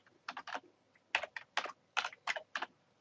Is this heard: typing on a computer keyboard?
yes